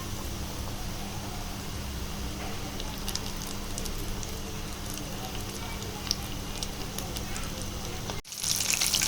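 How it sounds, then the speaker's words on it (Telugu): Battered chicken pieces fry in hot oil KFC-style, making a dense, steady crackling sizzle close up that continues for several seconds before an abrupt shift to a brighter hiss at the end. "చూడండి KFC చికెన్ మాదిరిగానే పొరలు పొరలుగా మన చికెన్ ఎంత బాగా ఫ్రై అవుతుందో"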